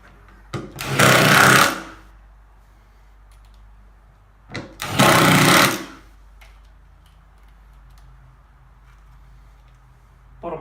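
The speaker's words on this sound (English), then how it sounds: "nip it up tight with the impact driver" A cordless impact driver runs up screws while a Fishski box is installed, giving two loud hammering bursts of about a second each, separated by a quiet pause with faint light clicks.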